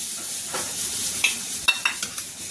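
Paratha filling is mixed in a pan just after the gas is turned off. A soft steady hiss runs under the stirring, and a few sharp scrapes and clicks come near the end, with no talking.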